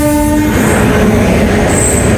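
The Shaheed Express, also called the Saryu Yamuna Express, passing close by with a loud sustained horn at the start, then a dense continuous rush of rolling wheels and rail noise.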